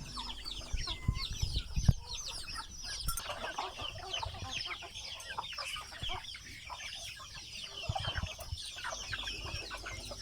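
Several free-range village chickens cluck and chatter continuously at close range while feeding in a pen, with scattered scratching and rustling sounds, and no talking.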